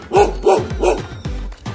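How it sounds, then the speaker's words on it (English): A dog barks repeatedly from a rooftop in a village near a beach, five loud, sharp barks in a steady rhythm, close by and with no talk over them. "There's like a dog on the roof barking at me."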